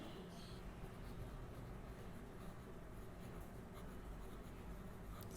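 Pen scratching on paper while a geometry construction is written out, a faint continuous scribble against a quiet room hum.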